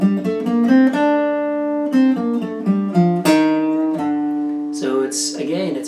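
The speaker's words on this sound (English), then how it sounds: "Third mode of the major scale, Phrygian." A melodic line in the Phrygian mode, the third mode of the major scale, plays as a run of sustained, bright tones stepping through the scale, ending with a brief wavering, bending note.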